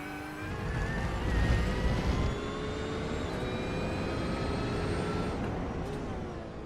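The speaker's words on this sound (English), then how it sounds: "Try him in the Porsche here for a second. Again, totally different sound engine compared to Travis and that Mercedes" Porsche GT3 race car engine in a racing video game, a steady high-revving drone with rising harmonic whine as it accelerates through gears, loud and continuous with no talk.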